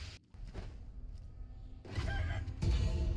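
Chickens and a rooster in a rural yard give short clucks and squawks, with a couple of louder bursts and a thud near the end, fairly close.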